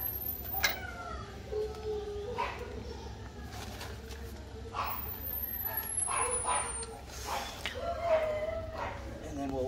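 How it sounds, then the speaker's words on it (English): A dog barks repeatedly in short bursts at a moderate distance, with a person talking over the barking throughout. "Sorry about the barking"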